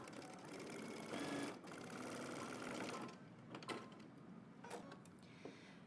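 A home sewing machine stitches a collar seam with a 5/8-inch seam allowance, running in a steady close whir for about three seconds, then stopping, followed by a few light mechanical clicks.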